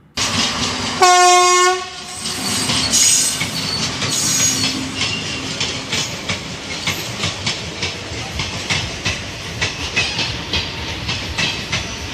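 A train on the new Panvel–Karjat–Pune shuttle service sounds a loud horn blast near the start, followed by steady rumbling and clattering of the rail cars passing close by, with no talk.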